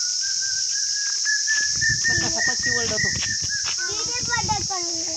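A thin, sustained bird call carries over a constant chorus of crickets, while people talk nearby underneath.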